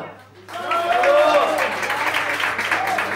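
A studio audience breaks into applause on a Spanish-language television music show, a dense burst of clapping with cheering voices that swells and then continues steadily.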